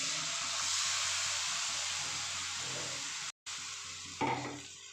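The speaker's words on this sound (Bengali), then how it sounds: "পেস্টটা ঢেলে দিলাম দিয়ে ভালো করে মিক্স করে নেবো" Spice paste for a paneer dish hitting hot oil in a pan, a broad steady sizzle that cuts out for a moment, then returns with a louder burst of frying and stirring.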